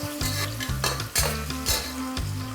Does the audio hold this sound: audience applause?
no